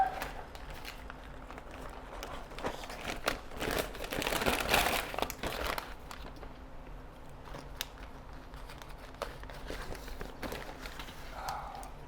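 Cooked brisket point being unwrapped, with faint paper or foil rustling and crinkling close by, rising into a louder burst of handling midway before settling back to scattered soft rustles.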